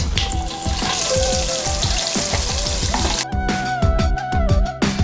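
Onions fry loudly in a pan for mutton yakhni pulao, a dense crackling sizzle with rapid popping and spatter throughout, close and continuous with no voices.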